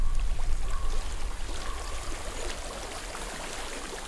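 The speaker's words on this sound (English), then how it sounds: "I hear water. Go to it." Water streaming steadily with a soft, continuous rush and trickle in the video game Hellblade: Senua's Sacrifice, moderately close, no voices present.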